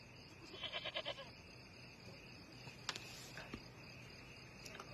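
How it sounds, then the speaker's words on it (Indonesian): A goat brought as a dowry gives one short, faint, wavering bleat at the start, then stays quiet while insects chirp softly in the background. "Ini saya bawakan kambing sebagai mas kawinnya, Pak Pin."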